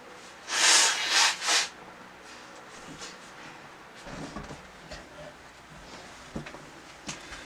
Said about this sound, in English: Blow my nose. All snuffly.